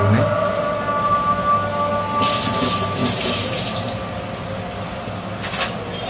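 Tap water runs steadily into a sink as a knife is rinsed after cutting mango, a close, continuous splashing flow with a couple of brief louder gushes.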